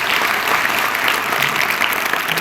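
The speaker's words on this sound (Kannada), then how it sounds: "ಒಂದ್ಸಾರಿ ಜೋರಾಗಿ ಚಪ್ಪಾಳೆ ಅವರಿಗೆ" Loud, dense clapping from a crowd at a school function in Vijayapura fills the room, a continuous even roar of hands with no speech over it.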